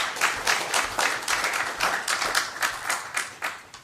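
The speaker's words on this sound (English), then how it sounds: "if you give a round of applause to all those staff and recipients" Audience applause at a council meeting for staff award recipients, a fairly sparse, rhythmic patter of clapping from a modest crowd, steady throughout with no talk over it.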